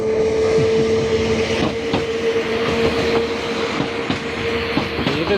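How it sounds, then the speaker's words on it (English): The Ffestiniog and Welsh Highland Railway steam train Quarryman pulls away from the station in the slate town of Blaenau Ffestiniog, with rhythmic clanking of carriages and wheels over rail joints, a steady tonal hum and occasional squeals, fairly close. "So this is the Ffestiniog and Welsh Highland Railway, and this train is called the Quarryman"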